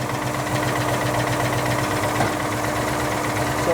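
Racecar engine idling during a cylinder check, a steady close rumble with an even pulsing beat that holds throughout without talk.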